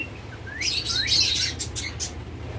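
A split ino pair of pet birds chirps in a quick cluster of bright, rising tweets, fairly near but soft, then trails off into a few scattered calls over low background hum.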